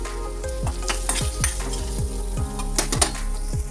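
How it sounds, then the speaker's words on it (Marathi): Onion frying in hot oil in a kadai gives a steady close sizzle, with repeated scrapes and clinks from a spatula stirring against the metal pan at a regular pace. "कांदा आता आपण तेलामध्ये फ्राय करून घेऊया"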